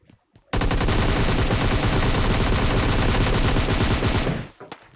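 Sustained automatic gunfire in the mobile shooter PUBG Mobile Lite, a loud rapid burst lasting about four seconds before stopping abruptly, with no talk over it.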